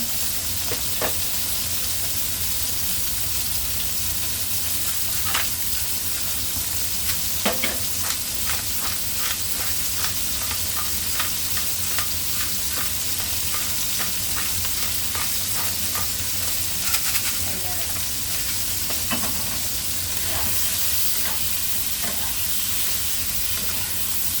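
Shrimp and bacon fry in a pan with a constant dense sizzle and hiss, occasional stirring scrapes and ticks breaking through, close up with no voices.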